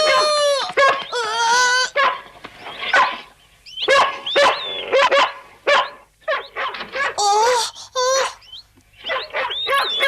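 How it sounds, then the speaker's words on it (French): A dog barks and yips excitedly in a rapid, irregular series of loud, close calls with brief whines between them, filling the whole stretch. "Oh, il est fou ce chien!"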